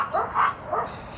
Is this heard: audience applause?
no